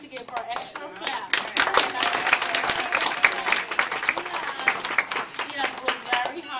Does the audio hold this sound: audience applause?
yes